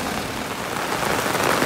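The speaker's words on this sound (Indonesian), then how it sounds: "cuaca sudah mulai hujan ya" Steady, loud rain pours down in the early afternoon near a spot where a truck is being towed, a dense continuous hiss with no talk.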